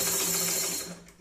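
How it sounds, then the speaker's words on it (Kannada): A sewing machine's bobbin winder spins steadily for about a second, filling the bobbin with thread in a close, even mechanical whir with faint ratcheting clicks that eases off toward the end. "ನೋಡಿ ನೀವು ನೋಡ್ಬೋದು ತಂತಾನೆ ಇಲ್ಲಿ ದಾರ ತುಂಬ್ತಾ ಹೋಗುತ್ತೆ."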